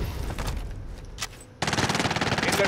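Automatic gunfire in a battle royale video game, a brief burst at the start, then a loud, rapid, evenly pulsed stream of shots that fills the final second alone.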